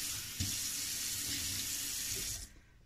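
Steady rush of tap water pouring into a sink for a couple of seconds, then cutting off abruptly near the end.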